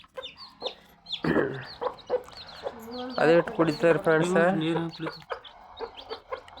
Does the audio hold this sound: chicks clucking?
yes